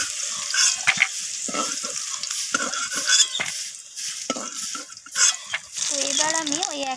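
Dried red chillies, bay leaves and radhuni seeds crackle and sizzle in hot oil already used for frying aubergine, a steady busy spatter with stirring clatter, and a voice briefly speaking near the end.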